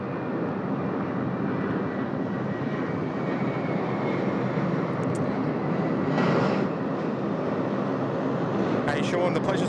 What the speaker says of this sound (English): Look at that lovely big right-hand turn out of runway 34 right.